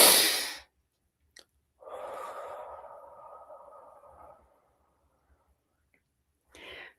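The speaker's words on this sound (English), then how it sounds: "It's a double inhale and a slow exhale." Breathing exercise known as the physiological sigh: a quick nasal inhale topped by a second one, then a slow, drawn-out exhale lasting a couple of seconds, close and clear with quiet gaps around it.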